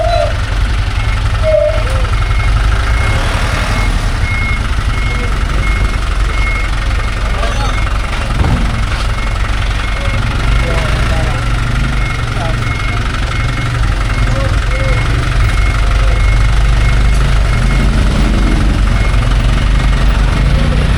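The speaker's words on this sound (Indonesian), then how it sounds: "Memang di sini sedikit kesulitan ya areanya ini untuk putar balik kendaraan" A truck hauling mud dredged from the Ciliwung river idles and turns around in a cramped spot, a loud constant engine rumble with a steady reversing beep, while people talk.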